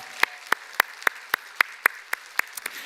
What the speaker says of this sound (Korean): 우리 이제 격려의 박수를 한번 해주시기 바랍니다